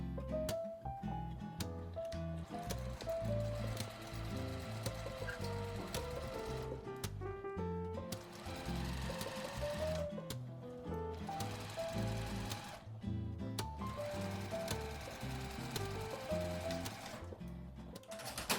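Sewing machine stitching fabric with a one-centimetre seam allowance for a small accordion-style mini wallet, a steady mechanical whir in bursts broken by brief pauses, close and continuous, without speech.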